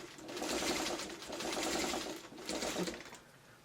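Sewing machine stitching fabric for a pet bed, a close, steady motor whir in two bursts with a short slowdown between, running alone without speech.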